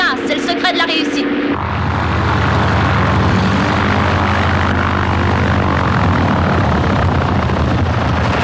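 A German propeller airliner's engines roar loud and steady after a brief moment of other sound at the start, a dense broadband drone that holds to the end.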